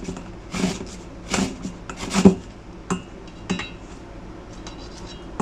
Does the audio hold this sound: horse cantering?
no